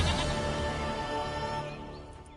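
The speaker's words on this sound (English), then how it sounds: "Goat of mine! Dearest, sweetest goat!" A goat in the video game Witcher 3 lets out one long, loud wavering bleat that fades toward the end.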